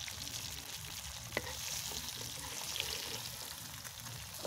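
Fish, including hilsa, frying in hot oil, giving a steady loud sizzle throughout with a sharp clink of a utensil partway in; no one speaks.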